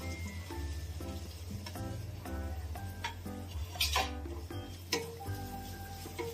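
Chopped onions sizzle and crackle in hot oil in a pan, steady and close, with a low hum underneath and occasional clinks of a utensil stirring.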